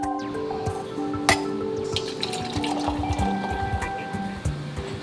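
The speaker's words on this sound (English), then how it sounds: "it's also cool to pour her a glass of her favorite drink" Liquid trickling and glugging as a favorite drink is poured into a glass, steady and close, with small clinks and splashes along the way.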